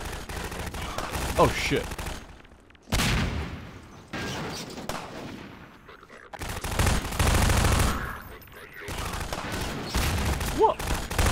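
Gunfire in Half-Life 2: Episode One, with bursts of shots, a few loud booms and a player talking between them.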